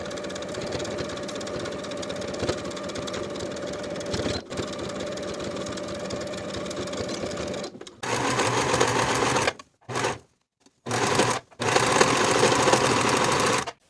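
A sewing machine stitches a seam on athletic shorts, running steadily for about eight seconds, then in several short bursts separated by brief pauses.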